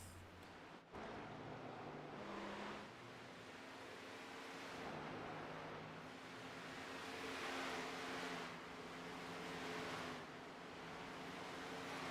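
Heavy rain pouring outside as a continuous, fairly faint wash of hiss, layered with a low droning engine hum from a racing game and no talking.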